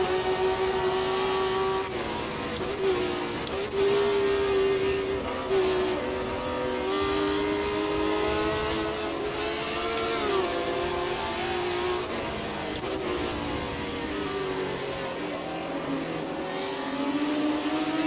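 A 1960s Ford GT40 and other period racing cars in the Assetto Corsa video game at Kyalami, engines revving and shifting up and down through gears while passing close, with a sustained loud wail throughout.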